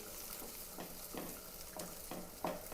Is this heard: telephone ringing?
no